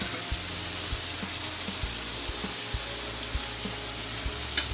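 Chicken frying in a pan for a thin chicken curry, with a constant close sizzle and a run of soft knocks and scrapes from stirring, and no talk.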